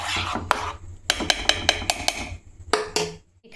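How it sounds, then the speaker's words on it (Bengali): A spoon scrapes and taps around a cooking pot while mango phirni is stirred off the heat, giving a rasping start followed by a quick series of sharp metallic strokes and two final clinks, close and clear with no talking. "এবার একটু হালকা করে নেড়ে নিই।"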